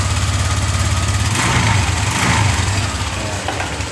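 Honda Vario 150 scooter engine idling right after starting, a steady close mechanical hum with a slight rise in the middle, continuous and fairly loud with no talk.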